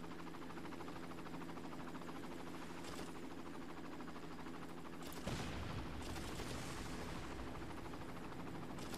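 Armored helicopter under gunfire in the Far Cry video game, a continuous rotor and engine drone with rapid crackling gunfire, then a sharp louder burst of shots midway, fairly faint overall.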